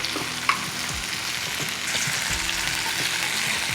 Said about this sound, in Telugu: మీడియం ఫ్లేమ్లో పెట్టుకొని ఫ్రై చేసుకోవాలి